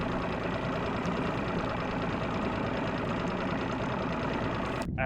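Boat outboard motor running steadily on a bass fishing outing, a continuous close mechanical drone with a faint knocking texture, heard alone without talk.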